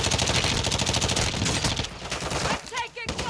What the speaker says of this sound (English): I'm taking fire! Stop shooting me!